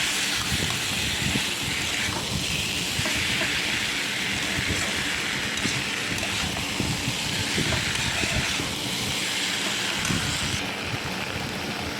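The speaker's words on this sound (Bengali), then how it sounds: "এই মশলা দিয়ে এটাকে কিন্তু আমি ভালো করে পটল আলু সয়াবিনটা কষাবো" Pointed gourd, potato and soybean chunks sautéing in spices in a pan, giving a steady, loud, dense sizzle and hiss that runs without pause for the whole stretch, with no talking.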